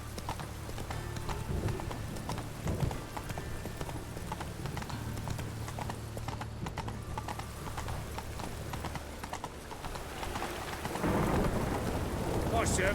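Steady rain patters in The Witcher 3: Wild Hunt, a constant hiss with horse hooves clopping and low rumbles beneath, swelling slightly louder near the end.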